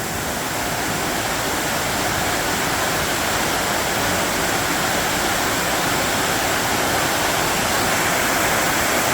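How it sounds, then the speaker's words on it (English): A waterfall at Watkins Glen State Park, heard from behind the falling water, pours as a steady, loud, dense roar of rushing water with no breaks. "here we are behind the waterfall"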